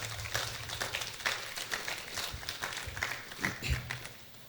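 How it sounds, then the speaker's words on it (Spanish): Congregation applauding at a church meeting, a quieter, uneven patter of hands with individual claps standing out in irregular bursts over several seconds, heard at some distance. "lo recibimos con un fuerte aplauso"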